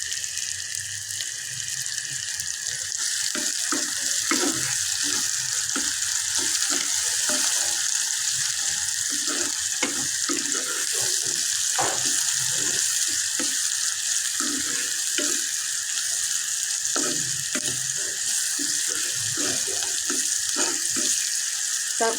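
Onions fry in a pan for a dried fish bhuna with salted hilsa, a steady loud sizzle and crackle running throughout, broken by regular scraping stirs.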